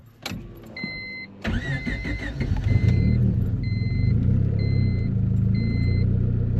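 A turbocharged Honda Civic cranks briefly and catches, then settles into a steady, loud, close rumbling idle as it warms up on a freezing day, with a faint intermittent electronic beeping over the engine.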